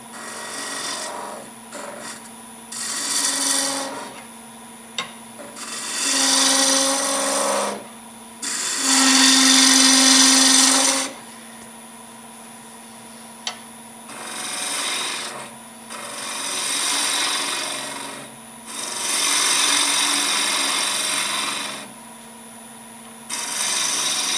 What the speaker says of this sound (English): So, spindle gouge works great for this project.